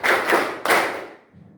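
Hand claps from a group in an Indonesian classroom clapping exercise, a quick burst of about three sharp claps, close and loud, ending in quiet.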